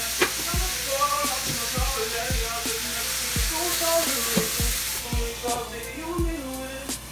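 Onions frying in butter in a pan over medium heat send up a steady, close sizzle and hiss, with soft irregular pops and clicks throughout.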